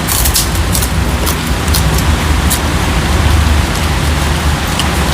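Heavy rain pours down in a dense, loud, steady hiss, with scattered sharper drips striking nearby surfaces; no voices are heard.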